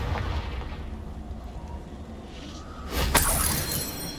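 A Confringo blasting curse explodes in Hogwarts Legacy, a sharp shattering burst that bursts out after a stretch of low rumbling ambience and then rolls off into a loud lingering rumble.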